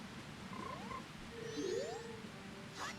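Frog croaks from the Nintendo 64 game Legend of Zelda: Majora's Mask, heard as a few rising and falling synthetic chirps over a steady buzzing game background, with no talking.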